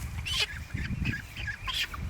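Ducks quacking and chickens clucking close by, a busy overlapping flock chatter with a few louder honking calls rising above it.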